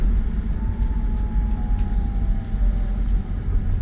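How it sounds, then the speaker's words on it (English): A tired Alfa Romeo 166 with a Busso turbo engine, its valves ticking, runs steadily nearby with a dense low rumble and a faint thin whine; no voices. "I'm still hearing the ticking noise of the valves"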